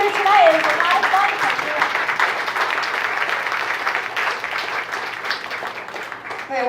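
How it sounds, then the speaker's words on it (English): A comedy club audience gives a round of applause for the comics on the night's lineup, the clapping steady and moderately loud across the clip with a voice briefly audible at the start. "Big round of applause for all the comics you're going to see here tonight."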